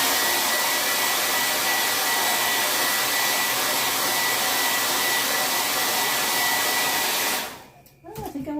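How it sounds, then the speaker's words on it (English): A hair dryer blows steadily and loudly on a chalk craft project for a fireplace mantel, a constant close whooshing roar that cuts off near the end, leaving brief handling noises. "I'm going to blow dry it."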